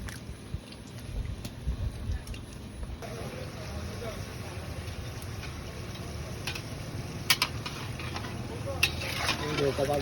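Singara samosas frying in hot oil at a village hotel: a steady low bubbling sizzle runs throughout with faint clicks, and a voice speaks briefly over it.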